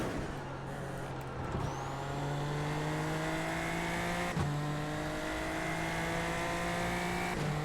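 A Super Formula Lights race car in the iRacing sim at Mexico City screams through steady high revs, with two sharp gear shifts dropping the pitch before it climbs again, loud and continuous.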